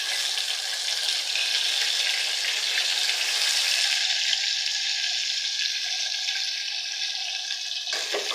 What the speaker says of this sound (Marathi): हा कढीपत्ता टाकूया, हा त्यात टमॅटो टाकूया,